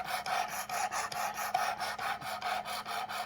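Knife blade of soft steel drawn repeatedly across the abrasive stone of a Work Sharp Precision Adjust sharpener, a close, rhythmic raspy scraping with about a dozen even strokes and no talking.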